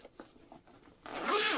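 A zipper slides along the inner pocket of a classic black flap handbag, starting with a few soft ticks and finishing in a quick, close rasping pull.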